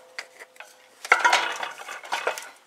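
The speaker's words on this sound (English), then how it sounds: "We're just going to go ahead and we're going to start to saute off the garlic and the onion a little." Garlic and onion cooking in melted butter in a pan, heard as busy clinks and scrapes of a utensil against the pan, louder after a quieter start.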